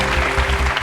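A studio audience at a French quiz show claps in a short, dense burst of applause, loud and close, with no voices over it.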